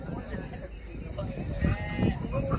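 Goats bleating at a livestock market, a few close bleats over steady crowd murmur and voices talking nearby.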